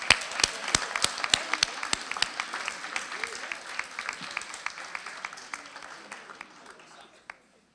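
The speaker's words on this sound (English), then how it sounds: "how about a round of applause for our team?" Audience applause at a school board meeting honours a boys' school cross country team, sharp individual claps over a crowd clatter that gradually thins and fades out, with some voices underneath.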